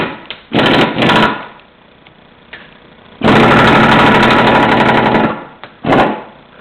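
Campbell Hausfield PL250 air impact wrench working on a bolt: a short opening burst, a second short burst, then a long steady loud hammering run of about two and a half seconds and one more brief burst, close up with no talk.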